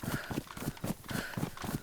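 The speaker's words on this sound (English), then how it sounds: "Yep, I can hear it's a goat." Hoofed footsteps from a goat in the DayZ video game trot in a steady, repeating rhythm of soft, muffled thuds, faint and somewhat distant.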